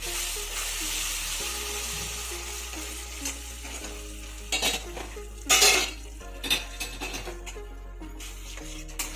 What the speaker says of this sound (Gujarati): હવે આપણે એમાં મેં પહેલાંથી ગરમ પાણી કરીને રાખેલું છે એ નાખીશું.